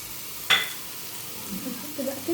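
Spices sauté with onion and garlic in a pot for a shrimp kabsa, with a sharp stirring clatter followed by a soft, steady sizzle close by.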